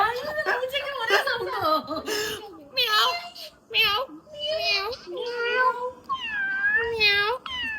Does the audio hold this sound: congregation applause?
no